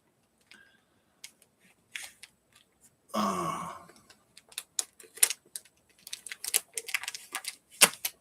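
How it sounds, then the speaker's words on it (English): A knife saws and scrapes through the stiff cardboard seam of an album cover in short irregular strokes, with one longer rasping cut partway through, close and fairly quiet, no talking. "I'm going to cut it right down this seam right here"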